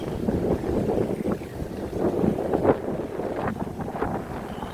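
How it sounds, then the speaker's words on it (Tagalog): Steady roaring wind buffeting the microphone near wind turbines, loud and continuous with gusty swells, no voices. "Ang lakas ng hangin."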